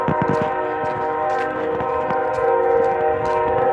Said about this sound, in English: It's a train horn that's stuck on.